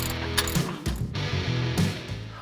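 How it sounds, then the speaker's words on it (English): A hand ratchet clicks steadily while tightening a leveling-kit strut bolt on a 2018 Toyota Tacoma 4x4 with a MaxTrac kit, close and clear, in short runs of rapid pawl clicks with brief pauses between strokes. "once we get that tightened down with the simple ratchet"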